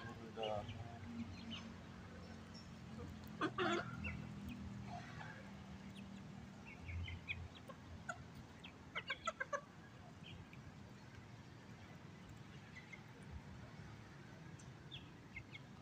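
Bantam chickens cluck softly on a quiet morning, with a few short bursts of clucking and calls at a middling distance over low background noise and faint voices.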